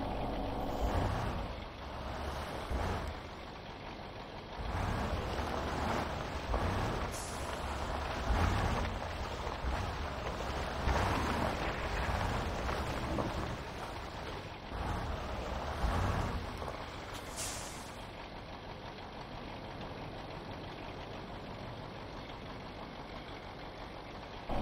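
A Ural truck engine in SpinTires rumbles steadily while driving off-road toward a logging site, with a continuous mid-pitched drone and periodic revving surges throughout.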